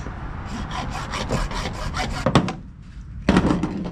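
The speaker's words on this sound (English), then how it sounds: "find the best end you have on this pipe and cut it like literally just an inch down" A short length of pipe for tuna tubes is sawn by hand up close, a quick series of rasping back-and-forth strokes, a brief pause, then a final burst of cutting.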